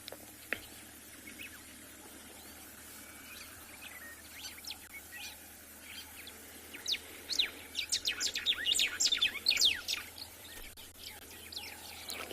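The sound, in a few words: white-browed sparrow weaver calls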